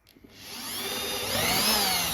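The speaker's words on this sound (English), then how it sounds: "Always good idea to drill a pilot hole, otherwise you end up splitting your very expensive freaking wood." A power drill with a 4mm bit bores a pilot hole in wood. A couple of short clicks come first, then a whining motor rises steadily in pitch and volume and holds close and continuous, with no talking.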